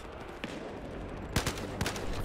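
A few sharp AKM rifle shots from the video game Battlefield Hardline crack out in quick succession over a low background hum, loud and close.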